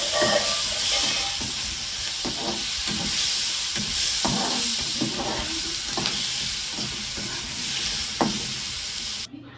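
Cashews sizzle in hot oil in a pan while cooking dhaba-style palak paneer, a steady frying hiss broken by repeated scraping stirs, close and loud with no voices.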